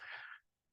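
A single short, breathy sneeze in a chemistry lecture hall, fairly quiet and hissy, cutting off abruptly into near silence.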